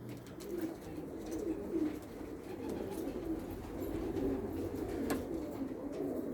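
Pigeons in a coop coo in a steady, overlapping low murmur that carries on throughout at moderate loudness, with faint chirps above it and no talk.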